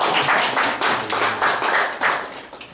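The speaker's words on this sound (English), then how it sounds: "Let's give him an applause" Audience applause at a ministry study session, a dense burst of clapping from many hands, steady and fairly loud for a few seconds before thinning out.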